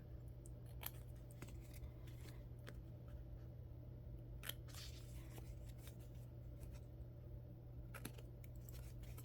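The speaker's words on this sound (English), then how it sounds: "And I'm cutting in a little bit, you can see, right?" Scissors snip through paper ephemera for a journal, quiet irregular cuts and crisp clicks scattered over a low steady hum, faint and close.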